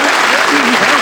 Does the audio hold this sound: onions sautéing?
no